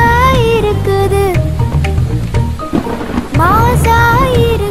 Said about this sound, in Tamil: இது மின்னல் அடிக்குது மழையும் பொழியுது